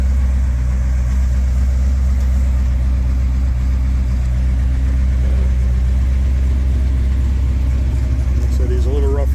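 A 1969 Chrysler 300 idles with a steady, loud low rumble through Dynamax Ultraflow mufflers on factory HV exhaust manifolds, TTI downpipes and an H-pipe, the note staying even throughout with a slight rise near the end.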